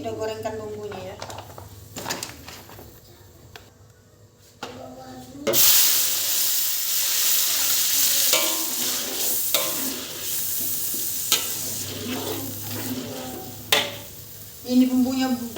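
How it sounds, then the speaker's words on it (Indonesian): Spice paste frying and being stirred in a pan, with a steady sizzle and hiss, scraping spoon strokes and occasional pan clanks, while someone talks over the cooking. "Ini udah gorengkan bumbunya ya."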